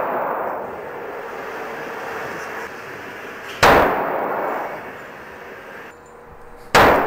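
Two sharp, loud gunshots from a .45 handgun crack out several seconds apart, each followed by a long ringing decay.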